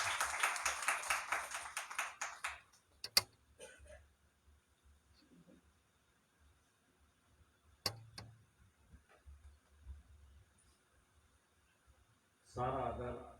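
At a pastor's family church gathering, people clap in a brisk rhythm for a couple of seconds. Quiet follows, broken by a few isolated taps and knocks, and voices return at the end.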